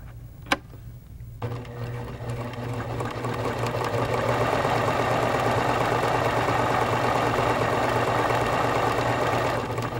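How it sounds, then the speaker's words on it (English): A Pfaff Expression sewing machine stitches the side of a buttonhole in manual mode, its motor whirring in a steady, close, rapid hum that swells up after a couple of clicks at the start. "Sew the right side of the buttonhole the desired length."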